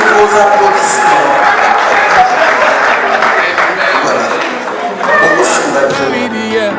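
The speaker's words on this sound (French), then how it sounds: "On applaudit s'il vous plaît, sous vos applaudissements." Audience applause with some cheering from a festive celebration crowd, a steady dense clatter of many hands clapping, loud and sustained throughout with a brief dip near the end.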